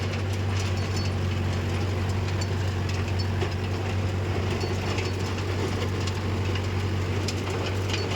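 Steady low rumble of a Mahindra 575 DI tractor engine running freely while pulling a 42-blade rotavator through a field at night, a continuous droning hum with a faint rattling texture over it.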